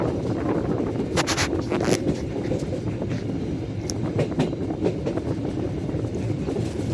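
KA Fajar Utama Yogyakarta economy premium train crossing the Sakalibel bridge near Bumi Ayu, Brebes, Central Java, heard from inside: a steady low rumble of wheels and carriage with some wind noise and faint intermittent clanks.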